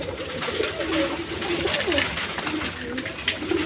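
Red German seal pigeons, a breeding pair, give rolling, repeated coos at close range, steady and moderately loud, with faint background noise and no clear speech.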